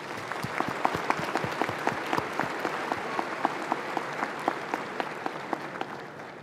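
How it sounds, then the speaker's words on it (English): Steady applause from an audience at a university fall commencement ceremony, many hands clapping at once in a dense, continuous patter, fairly distant and even in loudness throughout with no talk over it. "Let's give a hearty round of applause to our faculty to express our appreciation"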